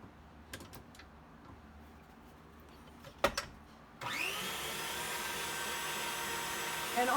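An electric stand mixer beating Italian buttercream starts up partway through, after a few quiet clicks and knocks, then runs as a loud, steady whir to the end.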